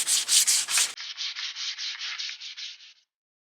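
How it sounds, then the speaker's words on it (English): A rigid block with 320-grit paper sands guide coat off a flat auto body panel during paint prep. About a dozen steady, rhythmic rasping strokes play alone, the first few rougher and louder, the rest lighter and even, then the sound stops. "Sanding this down with the 320."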